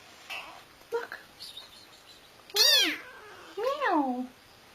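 A house cat meows repeatedly, a few short faint calls followed by two loud, drawn-out yowling meows close by, with quiet gaps between them.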